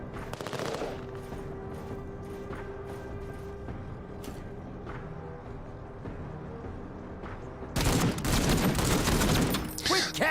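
Gunfire in the video game MENACE: a long stretch of distant, rapid fusillade and machine-gun bursts, then a much louder, denser volley of shots closer in for the last few seconds.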